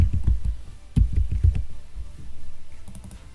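Rapid keystrokes on a computer keyboard come close and clear in quick bursts, with brief pauses between runs of typing, while entering a search formula into an Excel spreadsheet.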